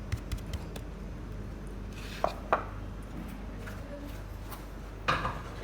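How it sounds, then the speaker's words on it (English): Potatoes dropped into a frying pan in a home kitchen: a few faint, sharp clinks and light taps scattered over a low steady hum, with no talking. "I'm gonna bring a frying pan over here and put our potatoes into this and cook them"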